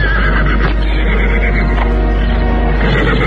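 A horse neighs in a loud, close, drawn-out whinny that rises and falls for several seconds over a steady low hum.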